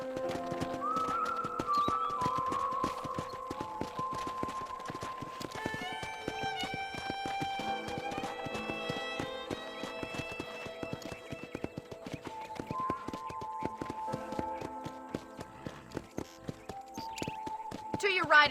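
Horse hooves clip-clopping at a steady trot in the Red Dead Redemption video game, continuous and fairly close, with game music and a character's voice running over the hoofbeats.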